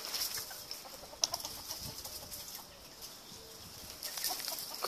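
Chickens cluck softly in a small flock outdoors. The low, scattered calls sit over faint background noise, with no one speaking.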